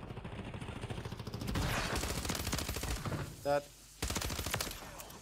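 Rapid bursts of M16 rifle fire in a battle royale shooter game, dense and rhythmic, with brief pauses and a sharp electronic tone in between, while players talk over it.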